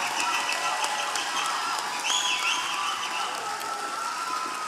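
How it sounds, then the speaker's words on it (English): An audience applauds a graduating class at a 2022 graduation ceremony, producing a steady, dense wash of clapping throughout, moderately loud and slightly distant, with faint voices mixed in. "I now invite the audience to give you all a rousing round of applause on your achievement"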